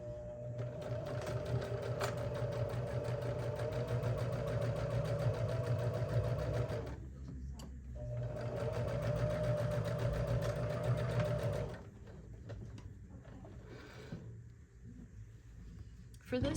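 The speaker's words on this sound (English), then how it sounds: "Okay, now resewing, back tacking" Sewing machine stitching and back tacking the seams of a fabric tote bag, a steady close whir running in two long bursts with a brief pause between, then stopping.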